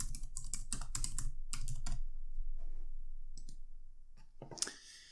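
An answer is typed on a computer keyboard, with quick bursts of close, crisp key clicks, a pause, then a few more taps and a sharper final keystroke.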